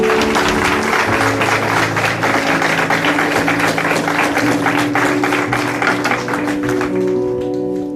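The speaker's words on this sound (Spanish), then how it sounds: "Denle fuerte palmas al que vive." A church congregation claps hard during a sermon, sending up a loud, dense and steady wall of claps with musical tones sustained underneath, then thinning out just at the close.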